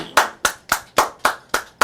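On a talk-show set, a single pair of hands claps seven times in an even, measured rhythm, each sharp clap close and loud against an otherwise quiet room, welcoming a guest.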